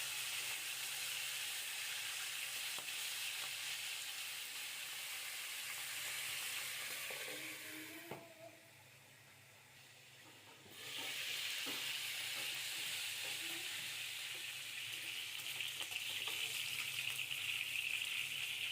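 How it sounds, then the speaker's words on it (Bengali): Chicken pieces for a roast fry lightly in a covered pan, giving a steady broadband sizzle that runs throughout, briefly muffled and quieter midway before the hiss returns at full strength. "এখানে আমি মুরগিগুলো হালকাভাবে ভেজে নিব"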